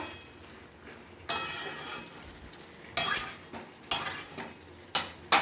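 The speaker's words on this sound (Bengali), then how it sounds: "এইভাবে মাঝে মাঝে একবার ভালো করে নেড়ে দিতে হবে 5 মিনিট অন্তর অন্তর" Meat is stirred in a metal cooking pot over low heat, a spoon scraping and clinking against the sides in several sharp strokes about a second apart, with a faint sizzle between them.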